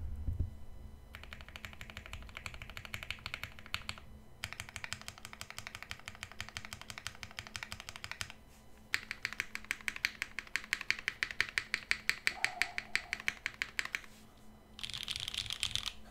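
Typing on an Obliterated75 keyboard fitted with lubed, filmed H1 switches, a close, crisp run of muted clacks in bursts separated by short pauses, steady and rhythmic with no talking.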